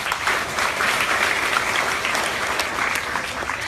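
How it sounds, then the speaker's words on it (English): An audience at a women's self-defence centre event applauds, a thick, steady roar of many hands clapping together that holds evenly from start to finish. "So first, clap for yourselves."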